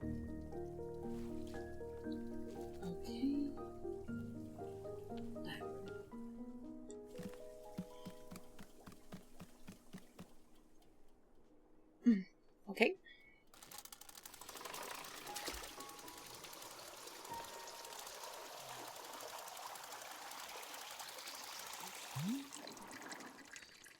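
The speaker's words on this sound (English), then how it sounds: "pull down on the rope to pour as much water as you'd like" Water pours into a tea machine in the video game Wanderstop, faint splashing and trickling following a stretch of game music with plucked notes and a few sharp clunks; a voice briefly speaks.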